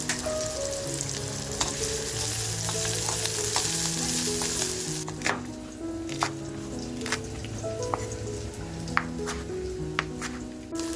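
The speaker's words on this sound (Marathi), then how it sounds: "तेल तापले कांदा टाकून घेते" Chopped onion frying in hot oil in a pan, a steady close sizzle with stirring scrapes and small crackles throughout, no talk.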